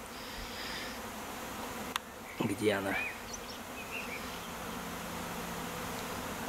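A queenless honeybee swarm hums as a steady, faint buzz in an outdoor grassy spot, with a short spoken question partway through.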